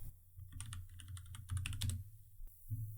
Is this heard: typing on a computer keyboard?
yes